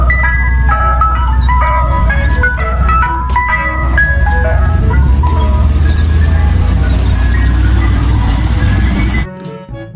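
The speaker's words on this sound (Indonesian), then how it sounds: "Yang ini ada mobil es krim." A toy ice cream truck plays its tinkling electronic jingle, a loud, continuous melody of bright repeated notes that cuts off abruptly near the end.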